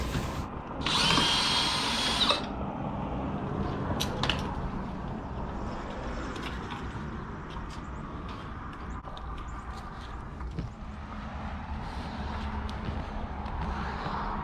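A power drill whirs for about a second while backing lag screws out of the stern platform of a 1986 Ski Nautique boat, a loud close burst followed by quieter rustling and workshop noise.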